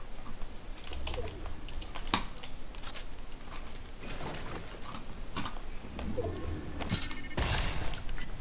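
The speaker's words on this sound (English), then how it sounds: "Jason, stop typing GG." Rapid clicking of computer keyboard keys being typed on, steady and close, with a few sharper clacks and brief louder bursts toward the end.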